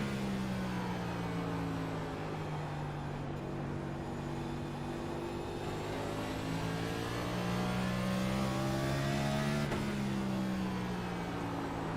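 NASCAR stock cars practicing at North Wilkesboro Speedway drone loudly and steadily throughout, their engine notes rising and falling in pitch as several cars run laps together, with no voices.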